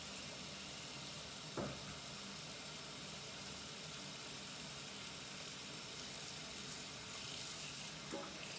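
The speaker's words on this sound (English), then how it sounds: "So I'm just gonna add the water, and we will be done for the day." Water is poured onto food coated in salt in a home kitchen, giving a steady hiss and splash that runs throughout. A couple of faint knocks and clinks break through it.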